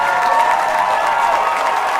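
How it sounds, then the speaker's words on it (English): Steady, dense clapping from a crowd at a Halo Championship Series Pro League event, continuous and fairly loud throughout with no pauses. "So give him a round of applause."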